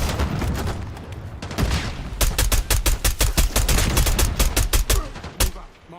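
Rapid bursts of automatic gunfire in a Call of Duty match, loud and near, with repeated sharp shots in quick rhythmic volleys over a constant background of game action.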